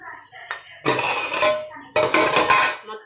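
A metal lid clatters onto a cooking pot of simmering horse gram soup (ulavacharu), two bright clanking bursts of metal on metal, close and fairly loud.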